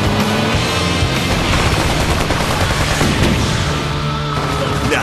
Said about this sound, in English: Heavy fire coming our way.